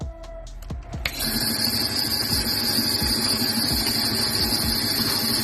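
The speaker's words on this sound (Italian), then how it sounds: "Perfetto, il motore va." The electric motor of a Black & Decker DN339 band saw whirs up to speed after a couple of clicks, then runs at a steady high hum with a faint rhythmic rattle.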